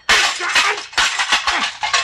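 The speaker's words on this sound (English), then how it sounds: "Mr. Bailey, the phone, you busted it." A telephone smashed in a 1940s radio suspense drama: a run of loud, sharp crashing and breaking impacts in quick succession, close up and with no talk over them.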